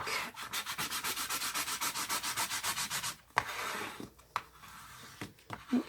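Glued paper is rubbed down onto a handmade craft book in about twenty quick, even back-and-forth strokes, close and scratchy, then a few scattered bumps and paper handling.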